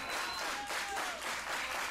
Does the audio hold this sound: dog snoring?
no